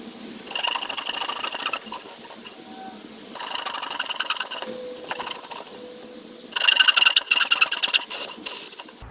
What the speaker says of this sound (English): So now I'm just going to take my saw and cut out the dovetails.